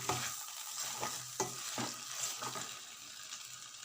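A spoon stirs a spiced vegetable mixture frying in a pan at home, with rhythmic scraping strokes over a constant close sizzle.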